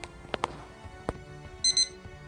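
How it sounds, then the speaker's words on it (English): Kitchen timer going off while a whole young chicken bakes: two short bursts of high electronic beeping near the end, over faint kitchen clatter and knocks. "Our timer's going off, which means our chicken is done."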